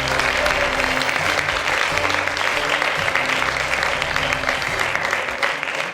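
Audience applauding at an award ceremony in Rodez, a dense sustained clapping from a sizeable crowd, steady and fairly loud for several seconds with no one speaking over it.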